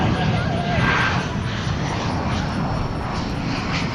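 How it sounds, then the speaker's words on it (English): A UPS Boeing 747 takes off at night from DFW Airport, a loud broadband jet roar that holds steady throughout, with a voice talking over it. "747 off to Louisville. Just took off from the east side."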